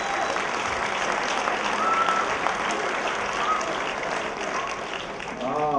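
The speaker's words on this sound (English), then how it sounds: "Let's give Dick a big round of applause as he makes his way on stage over here" An audience at a comedy show applauds as a man named Dick walks up onto the stage, a broad, continuous wash of clapping and crowd noise with a few faint voices and whoops rising within it.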